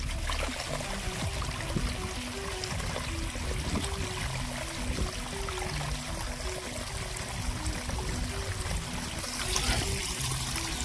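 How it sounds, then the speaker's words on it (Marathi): Water flows steadily along a channel into a paddy field, a continuous trickling and gurgling wash that stays even throughout, with no talking. "आपल्या शेतामध्ये पाण्याचा पारा आहे."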